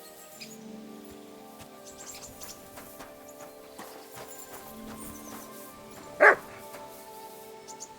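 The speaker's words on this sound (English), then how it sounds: "Barking?" In the video game Kingdom Come: Deliverance 2, a dog gives a single sharp bark, louder than the quiet, tonal in-game background sounds.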